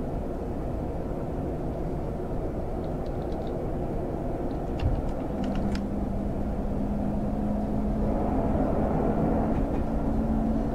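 A Class 101 diesel train running in the video game Train Sim 2021, a steady low engine rumble and track noise with a faint rising tonal hum, constant and fairly close with no talking.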